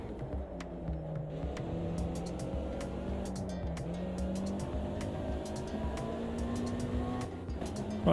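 Race car engine in Automobilista 2, a steady droning, throbbing roar with layered harmonic whine, holding loud and continuous throughout with faint tyre noise and no talk.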